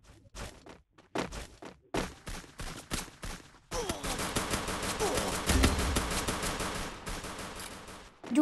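Gunfire in the mobile shooter game Free Fire: scattered single shots and short bursts early on, then a sustained stretch of rapid automatic fire, fairly quiet overall.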